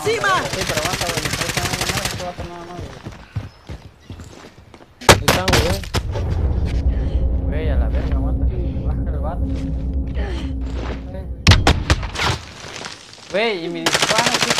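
Rapid bursts of Call of Duty gunfire crackle in loud volleys between excited Spanish-speaking voices talking over each other.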